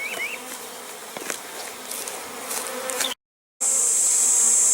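Dense, steady buzzing of many honey bees close by during a varroa mite alcohol wash sampling at a hive, a constant droning hum that briefly cuts out before resuming louder.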